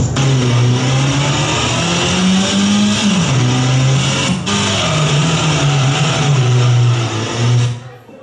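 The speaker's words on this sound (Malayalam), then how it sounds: "ബസ് വന്നു." A bus engine drones loudly and steadily as the bus pulls in, its pitch rising and dipping as it slows, then the sound drops away near the end.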